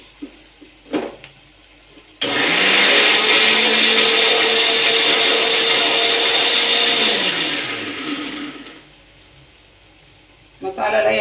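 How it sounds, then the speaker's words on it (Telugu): A kitchen mixie grinds masala with a little oil, starting abruptly into a loud, steady whirring run of about six seconds before winding down, with faint handling sounds before and after. "ఆల్రెడీ ఇప్పుడు మసాలా వేస్తాం కదా మనం మిక్సీకి"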